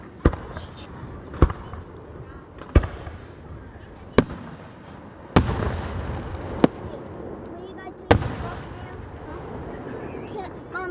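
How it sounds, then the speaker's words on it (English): Fourth of July fireworks go off in a series of sharp, loud bangs spaced a second or two apart, some followed by crackling tails, while people talk nearby between the blasts. "People are setting off fireworks."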